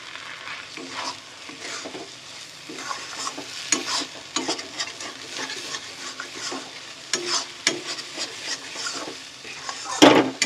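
A spatula stirs dhaba-style chicken tadka with kasuri methi in a pan, giving a soft continuous sizzle under repeated scraping and light metallic clinks, with a sharper clatter near the end.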